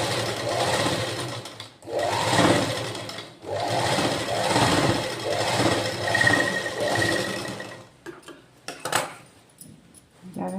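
A sewing machine stitches gathered cloth in steady close bursts of rapid mechanical whirring, pausing briefly between runs and ending in a few clicks and clatters.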